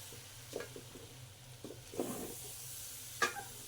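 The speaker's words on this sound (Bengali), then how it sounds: "এখন এই ডাল আর চাল একসাথে মিশিয়ে দুই মিনিটের মতো আমি ভেজে নেব" Rice for pulao and lentils frying together in a pan, with a soft, faint sizzle and a few intermittent stirring scrapes spread over a few seconds, no voices.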